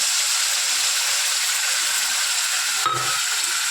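Spices with black cumin (kalo jeere) stir-fry in a pan for a rohu fish curry, giving a steady loud sizzle throughout, broken by a brief clatter near the end.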